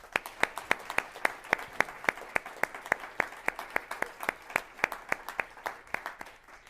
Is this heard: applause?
yes